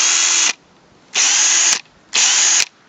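A Ryobi P277 18V cordless drill running at speed 2 whirs in three short, loud bursts, each ending abruptly as the electric brake stops the motor, with quiet gaps between.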